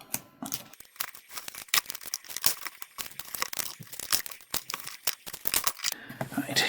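Strips of foam tape being torn and pulled apart at close range, with dense, continuous ripping and crinkling in quick repeated bursts and no voices.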